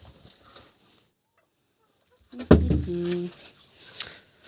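Broody hens cluck near the coop, a few short clucks followed by a louder, sustained burst of calls, with faint rustling before.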